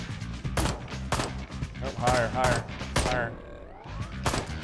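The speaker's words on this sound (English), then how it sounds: "I think I'm shooting." Repeated bursts of gunfire from the video game Ride to Hell: Retribution, loud and close, with shots in quick clusters while people talk over them.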